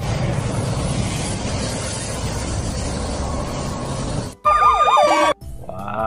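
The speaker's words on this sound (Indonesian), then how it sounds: "Wah, kita menemukan mobil ambulans." A loud electronic toy ambulance siren wails in a quick two-tone pattern for about a second, following steady background rumble, then cuts off abruptly.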